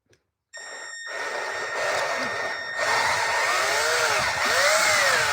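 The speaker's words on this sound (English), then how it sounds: "I'm actually going to change drill bits and just put in a 10 millimeter." A drill fitted with a 10 mm bit widens a hole in wood, whirring steadily after a brief silence, its pitch bending and wavering as the bit bites.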